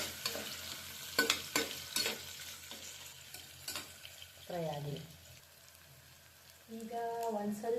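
Lengthwise-sliced onions frying in oil toward golden brown for donne biryani, a soft steady sizzle broken by sharp spatula taps and scrapes, with faint voices briefly audible in the background.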